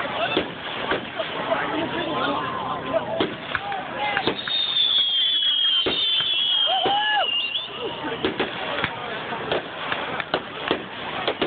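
Fireworks bursting over a night-time Boy Scout rendezvous closing ceremony, scattered thuds and crackles across a steady crowd murmur, with whistling streaks rising overhead and people chatting nearby.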